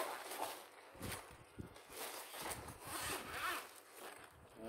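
A zipper on a Daiwa fish cooler bag is pulled open in several quick, close rasping strokes, quiet and clear with no talking over it.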